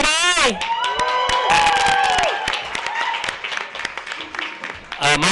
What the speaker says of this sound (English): If you can hear me, clap 3 times loud.